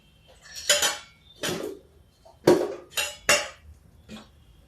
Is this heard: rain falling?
no